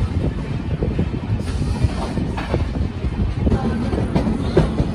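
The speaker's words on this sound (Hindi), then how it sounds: "गुना जंक्शन के 2 नंबर प्लेटफॉर्म पर अराइविंग करती हुई 10 मिनट पहले 334 किलोमीटर का डिस्टेंस कवर करने के बाद हमारी ट्रेन पहुंच गई है" The Indore Chandigarh Express, hauled by a WDG4 diesel locomotive, rolls into platform 2 at Guna Junction with a dense, continuous rumble of wheels and carriages and some wind buffeting, loud and close throughout.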